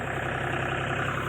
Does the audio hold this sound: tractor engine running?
yes